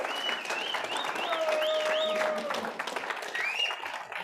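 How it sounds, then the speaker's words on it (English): Crowd applause at the end of a combat sports press conference after the fighters shake hands, sustained clapping mixed with whistles and cheering voices, loud and continuous. "Give him a big round of applause."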